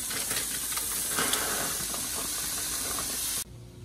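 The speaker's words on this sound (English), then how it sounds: "All right, let's fry this corn up." Corn frying in avocado oil in a cast iron pan, a loud, dense, even hiss of oil that runs steadily and then cuts off abruptly near the end.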